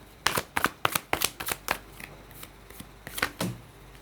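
Tarot cards shuffled by hand, heard as a quick series of crisp riffling snaps and slaps, about a dozen sharp bursts at close range with no voice over them.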